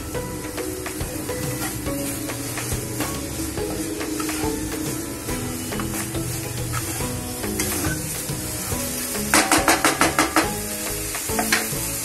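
Poppy seeds dry-roast in a pan with a continuous close hiss and crackle, broken by bursts of quick rhythmic scraping and stirring strokes, no voices.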